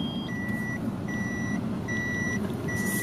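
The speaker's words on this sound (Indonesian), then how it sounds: "Sensornya pun juga nyala di belakang biar tahu ada sesuatu kah, ada barang ataupun ada mobil di belakang" A car's rear parking sensor beeps while the car reverses, sounding as evenly spaced, clear electronic tones that repeat over a steady low rumble inside the car, with no talk.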